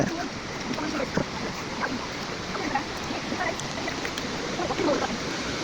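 A waterfall at Naval, Biliran roars as a steady broadband rush of falling water, with a voice speaking faintly over it.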